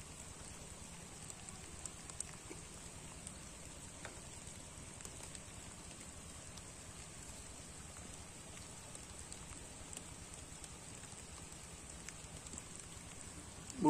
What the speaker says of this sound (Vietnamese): Mưa lại rồi, mưa lại các bạn.